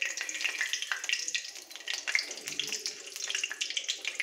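Cinnamon, cloves and bay leaves sizzle in hot oil as whole spices for a tempering, giving a steady, close, hissing crackle with irregular pops throughout.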